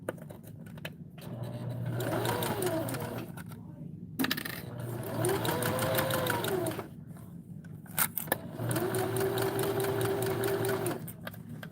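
A sewing machine runs long basting stitches without backstitching in three sustained bursts separated by short pauses, its motor hum steady and close, with small clicks and clatters between runs.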